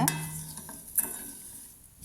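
Ingredients fry on a medium flame with a soft sizzle, broken by a few scrapes and clinks of a stirring spoon against the pan, close and fairly quiet.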